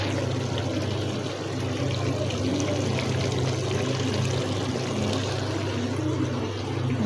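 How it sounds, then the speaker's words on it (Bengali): Hot water pours into a pot of cooking chicken as a continuous close splashing stream under a low steady hum, with no voices. "আমি এখানে গরম পানি দিয়ে দেবো। দেখুন গরম পানি করে নিচ্ছি।"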